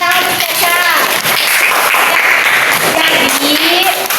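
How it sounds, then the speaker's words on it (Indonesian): Classmates in an elementary school classroom clap for a student, a dense burst of applause mixed with children's voices calling out over it. "Ya betul, tepuk tangan untuk Caca."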